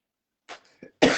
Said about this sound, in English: I'm coughing because I'm smoking.